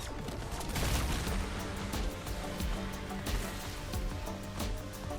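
Rapid gunfire from the Black Ops zombies map Terminus, shooting at a boss's glowing tentacles, sounds as dense continuous bursts of shots over a busy game soundscape with no pauses.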